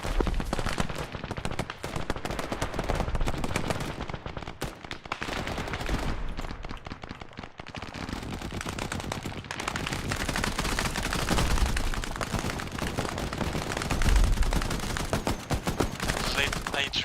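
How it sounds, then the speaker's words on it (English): Heavy gunfire in the video game Arma on the Chernarus map crackles in rapid, sustained bursts of shots and automatic fire, loud and dense throughout, with brief lulls between volleys. "Taking heavy fire from our south, engaging as best we can."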